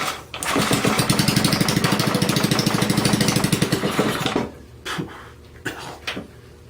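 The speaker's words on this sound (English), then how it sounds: "let's see if we can get the full heartbeat in this Arco twin engine project" A small Arco twin model engine, set on full choke, bursts into a loud, rapid running buzz for about four seconds, then cuts out, followed by a few brief sputters and pops.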